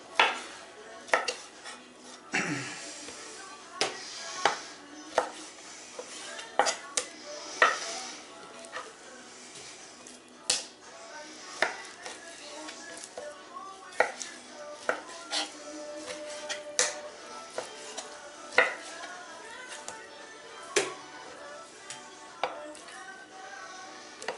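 A knife chopping boned-out pork into small pieces on a board, with sharp, irregular strikes repeating steadily throughout, close and fairly loud, alone without talk.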